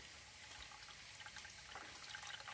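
Water running out through a refrigerator's drain after clearing a blocked drain line, a steady close trickle and splash lasting throughout with no talk.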